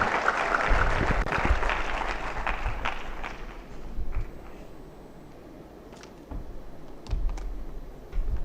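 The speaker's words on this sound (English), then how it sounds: "Give him a round of applause as he comes and kicks us off." An audience at a national youth science exhibition award ceremony claps as a speaker comes up. The applause is moderately loud at first, fades to scattered claps and room noise, then returns briefly with a few sharp claps.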